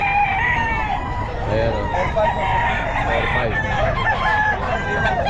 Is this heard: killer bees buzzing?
no